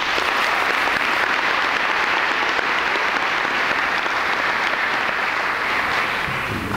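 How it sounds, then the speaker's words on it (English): Audience applause at a college honors convocation, a sustained, even roar of many people clapping in a hall, holding steady throughout without any voices. "I'd just like to get a big round of applause for everybody today."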